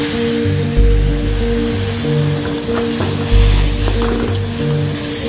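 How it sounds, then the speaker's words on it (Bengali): Spices fry in a pan with a steady, close sizzle that swells briefly a couple of times, over a low droning hum and with no talk. "এবার এগুলোকে ভালো করে ফ্রাই করে নিতে হবে।"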